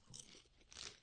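Crunchy cheesy snack chewed close to the mic, two loud crisp crunching bites about half a second apart with no talk.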